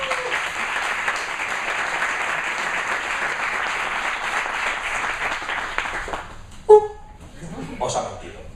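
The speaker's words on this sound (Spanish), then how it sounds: "Por favor, dar un aplauso a Juan Carlos San Juan de Lotería." Audience applause for a speaker at a conference, a dense and steady burst of clapping that lasts about six seconds before fading out, with a short loud knock and some voices afterward.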